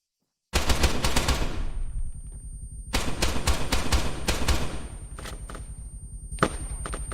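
Machine gun fire in the Arma video game erupts after a short silence as long, dense automatic bursts, loud and close, pausing briefly before further sustained volleys and a few scattered shots.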